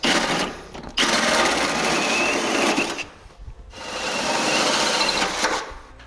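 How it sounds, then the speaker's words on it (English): A 2-inch hole saw drills at an angle up through the bed of a Ram pickup for a Demco Autoslide 5th wheel hitch, giving a loud continuous grinding whir in two long bursts with a short pause between them. "we can go ahead and drill it out to our 2-inch diameter hole"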